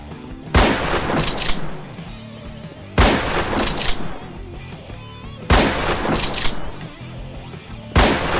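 Sniper rifle shots from the TFA weapon pack in Garry's Mod fire at a slow, steady pace, four loud sharp cracks roughly 2.5 seconds apart, each with a rumbling tail and a bolt-like rattle before the next.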